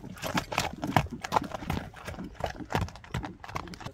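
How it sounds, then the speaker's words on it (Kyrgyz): A dark bay horse with a white blaze being led out for sale at a horse market for kok-boru (ulak) riding, its hooves clip-clopping in a steady, close walking rhythm with a soft whinny and faint background chatter. "Экинчи номерде ушул карагер кашка келген ат сатууга чыкты."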